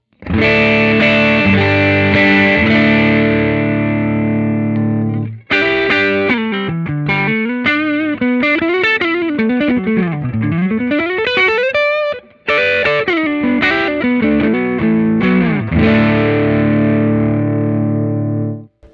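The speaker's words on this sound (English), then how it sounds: "So let's hear what that one sounds like through the clean amp." Overdrive pedal on electric guitar through a clean amp, starting with a long sustained gritty chord, then bending lead lines and fast runs, and ending on another ringing chord, loud and alone with no talk.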